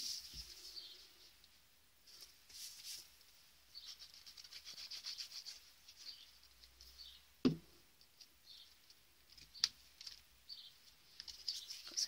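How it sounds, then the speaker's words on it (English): Faint, scattered bird chirps come from outdoors, with quiet rustling and an occasional soft knock nearby. "Some noisy birds out today."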